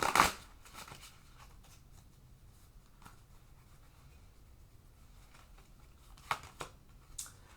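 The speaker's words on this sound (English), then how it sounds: "I'm going to shuffle one more time." Tarot cards being shuffled by hand, a quiet soft riffle at the start followed by faint scattered taps and brief card flicks near the end, close and low in level, no voices.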